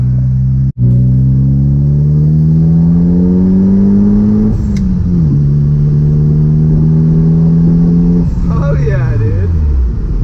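An untuned Subaru WRX with all-wheel drive accelerates hard from the cabin, engine pitch climbing steadily, dropping at a gear change, then climbing again before easing off, loud and continuous.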